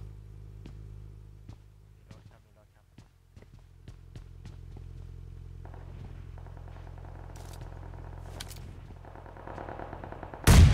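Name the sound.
gunfire in a video game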